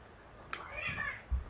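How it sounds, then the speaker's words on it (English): Two house cats fight indoors, with a short strained yowl and a scuffling thump, faint and close by. "my cats are just going at each other"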